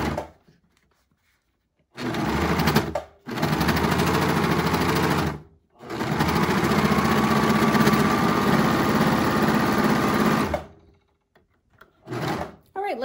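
A serger sewing machine stitches mask fabric in several loud, steady whirring bursts of rapid mechanical stitching, separated by short pauses, close to the listener.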